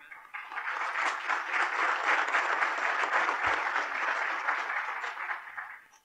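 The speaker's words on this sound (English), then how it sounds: "Nice round of applause." Audience applause at the Chick-fil-A Peach Bowl press conference, a steady, full round of clapping from the room that swells quickly, holds for about five seconds, then fades out.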